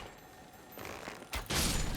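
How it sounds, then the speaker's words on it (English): A Great Rain of Arrows attack in Elden Ring: faint game ambience gives way to a sudden loud burst of many arrows whooshing and striking together in a dense volley. "Great rain of arrows."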